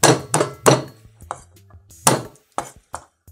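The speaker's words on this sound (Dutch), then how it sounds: "De verse pepers, eerst platten." Fresh chili peppers pressed flat with a knife on a cutting board, several loud, dull thumps in irregular clusters, close and heavy, with short quiet gaps between.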